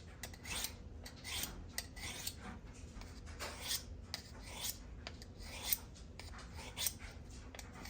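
Kitchen knife drawn repeatedly across an abrasive sharpening steel, a quiet series of rhythmic gritty rasping strokes, evenly spaced, close and alone.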